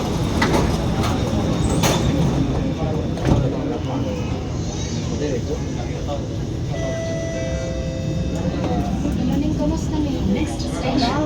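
An Alstom Movia R151 MRT train runs between City Hall and Tanah Merah stations, with a dense, continuous rumble and rolling roar inside the car, faint rising motor tones later on, and occasional muffled voices in the background.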